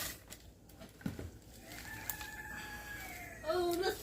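A rooster crows somewhere outdoors, faint and distant, the call carrying through low background noise in a home kitchen while meat is cut; a short burst of louder sound comes near the end.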